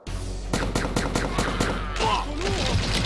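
Rapid bursts of automatic gunfire ring out in the video game Manhunter, a regular series of sharp, loud shots at close range, followed by more scattered firing and a ricocheting whine.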